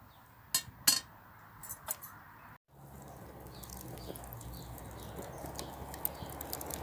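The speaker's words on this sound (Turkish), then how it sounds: "ciğerlerimizi e, iki ciğer bir yağ olmak üzere şişe geçiriyoruz" Chunks of liver and fat being threaded onto metal skewers: a few light metallic clinks and taps close by, then a steady low rustle of handling with occasional small knocks, no voices.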